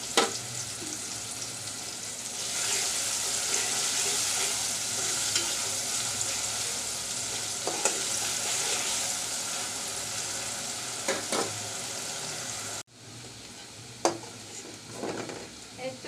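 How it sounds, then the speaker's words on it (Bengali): Chopped onion with salt fries in oil for a spicy fish curry, a steady close sizzle with occasional stirring scrapes, dropping off sharply near the end to quieter sizzling and utensil clinks. "এরপর যে লবণটা আমি দিয়ে দিচ্ছি পেঁয়াজটা যেন তাড়াতাড়ি ভাজা হয়ে যায়"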